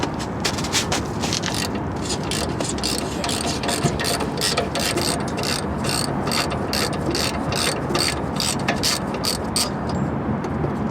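A hand ratchet loosens a bolt on the rear brake rotor of a Nissan Maxima or Infiniti, with rapid, close, repeated clicking in quick strokes that continues steadily throughout, with no talk.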